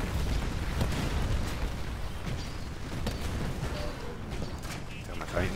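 An explosion in the video game Titanfall: a dense, continuous roar of blasts and rumbling battle noise with scattered sharp pops and mechanical clanks, loud throughout.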